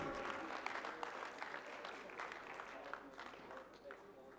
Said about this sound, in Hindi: भाई तालियां एक बार फिर भाई साहब के लिए, अशोक श्रीवास्तव जी